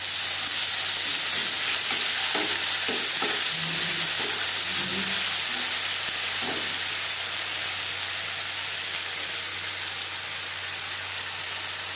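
Ginger paste and green chili paste frying in a pan give a steady, loud sizzling hiss that lasts throughout, with a few soft stirring clinks partway through and no voices.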